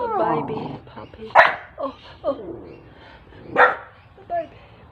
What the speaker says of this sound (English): That's the baby puppy.